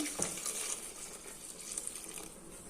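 Milk being poured over figs into a pot, a soft trickling and splashing of liquid that runs faintly and unevenly for a couple of seconds in a quiet kitchen.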